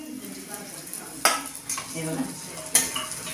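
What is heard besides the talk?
stuffed green chillies frying with masala in a pan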